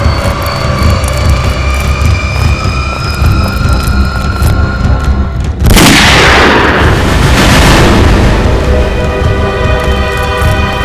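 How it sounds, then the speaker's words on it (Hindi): A single loud gunshot sound effect bursts out midway, a sharp broadband blast that decays into a long rumbling roar over a dense, tense background score. "गोली चलने की आवाज।"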